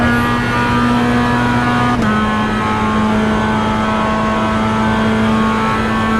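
Steady engine drone of a Mazda MX-5 in a racing video game, holding a constant pitch with a slight drop partway through, loud and continuous with no talk.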